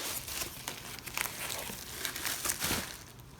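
Packaging being unwrapped from a 3D-printed part, close soft crinkling and rustling with a few sharper tearing crackles, no talk.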